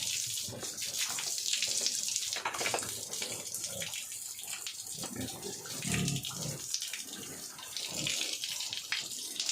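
Steady running water splashes and pours while a pig is bathed outdoors, with faint animal grunts mixed into the continuous rushing flow.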